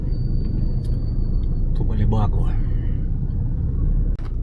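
Heavy two-way road traffic in Angeles City: a steady low engine rumble of cars and buses fills the scene, with a short brake hiss, while someone talks over it close by.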